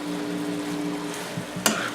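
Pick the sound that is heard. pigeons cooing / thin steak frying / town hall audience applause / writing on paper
thin steak frying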